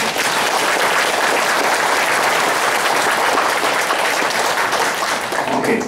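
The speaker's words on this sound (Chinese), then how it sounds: "你要邀请大家甲上帝打一个鼓掌" A church congregation bursts into dense, sustained applause, loud and even throughout, with the clapping fading slightly at the very end.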